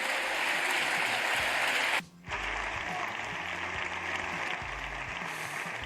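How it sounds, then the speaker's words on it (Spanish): Sustained applause in parliament for Irene Montero, a dense, even roar of clapping broken by a brief cut in the middle before resuming at the same level, with a low rumbling pulse underneath. "2 minutos de aplausos a Irene Montero que hubo a continuación de esto que hemos escuchado"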